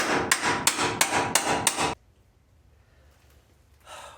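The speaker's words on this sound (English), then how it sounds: "So let's just tap it in with the little taps." A hammer taps a part of a rear axle and leaf spring assembly into place, giving six quick, close, ringing metallic strikes in an even rhythm, then near silence with a faint rustle at the end.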